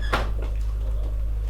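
A locked door is tried once, giving a single sharp rattle and clunk up close against a steady low hum, with no one speaking.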